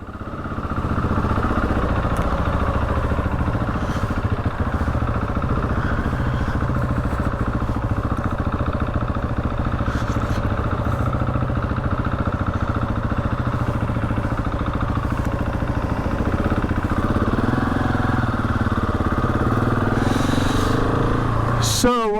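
Husqvarna 701 single-cylinder motorcycle engine running steadily as the bike rides off, a continuous near rumble with clattering mechanical noise throughout.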